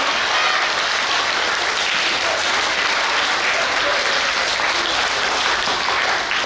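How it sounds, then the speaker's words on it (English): A school crowd applauds steadily at a student-of-the-month event, dense clapping filling the room at an even volume from start to finish. "Let's give everybody another round of applause"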